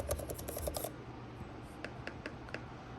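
Clicky keys on an iPad keyboard case, said to feel and sound like a MacBook Air, pressed in a quick burst of sharp taps, then a few more scattered, fainter clicks.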